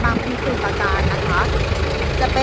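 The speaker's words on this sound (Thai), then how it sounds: "นี่นะคะเครื่องยนต์ดีเซลนะคะคันนี้" Diesel engine of a Toyota 7FD25 forklift idling steadily with a low, even rumble, while someone talks over it.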